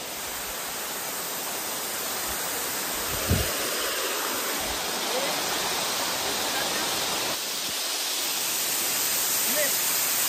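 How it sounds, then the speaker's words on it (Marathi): A waterfall pours beside a rough, badly damaged road: a steady, loud broadband roar close by, with one brief thump about a third of the way through. "सरळ जाशील धबधब्यात"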